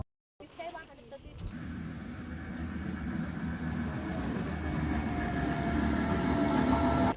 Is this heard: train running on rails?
yes